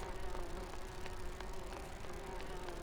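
Worker bees buzz in the Grim Fandango Remastered video game, a steady droning hum that stays continuous and fairly close throughout, with no talk over it.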